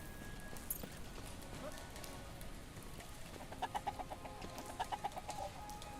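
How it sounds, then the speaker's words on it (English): Chickens clucking in the farming game The Ranchers, a series of short rhythmic clucks in two bursts over a soft rain-like game ambience, with no talking. "I gotta go say hello to the chickens"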